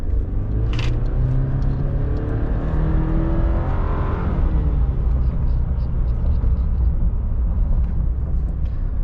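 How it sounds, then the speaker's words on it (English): A Chevrolet Silverado 4x4 pickup truck accelerating hard from close by, its engine rumbling and rising in pitch over several seconds before settling into a steady drone. "Let's see how fast she gets up to 60 right here."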